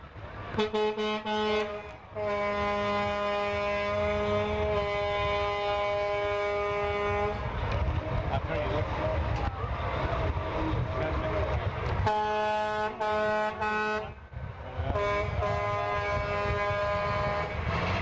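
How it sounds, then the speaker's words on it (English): A Mack truck rolls past in a small-town parade, its air horn blasting in long, loud chords several times amid rumbling engine noise, with a voice talking in between. "And another Mack truck."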